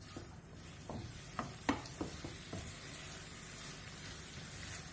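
Chicken pieces for chili chicken hit a hot pan with a steady low sizzle, broken by a few sharp crackles and spits near the start, then settling into an even frying hiss with no talking.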